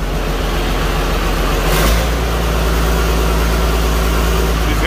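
A straight-piped D7G bulldozer engine runs up close, giving a loud, steady low rumble with one brief surge partway through.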